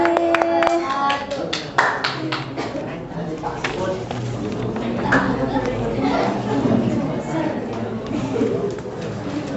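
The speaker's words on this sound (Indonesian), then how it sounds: "Tepuk tangan satu kali lagi." A class of students claps hands together at a teacher's request in a school classroom, a burst of sharp claps at the start settling into steady clapping under ongoing chatter and talk.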